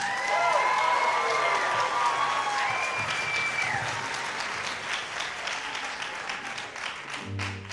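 An audience at a live rock music performance applauds, dense clapping and some cheering that holds strong and then gradually thins toward the end, with a voice and crowd noise coming through underneath.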